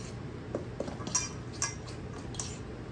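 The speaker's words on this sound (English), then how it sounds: "we're going to give it a stir, just to mix it up" Packed light brown sugar is stirred in a bowl, giving faint, intermittent clinks and scrapes of a utensil against the bowl in a quiet kitchen.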